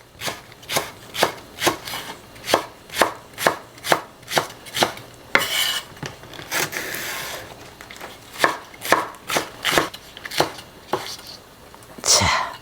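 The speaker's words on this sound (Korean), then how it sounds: "여기에 대파 한 뿌리도 같이 넣을게요. 좀 갈라서 어슷썰기." A knife slices a split green onion diagonally on a cutting board, making crisp, evenly spaced chops close by, with a short pause midway before the chopping resumes.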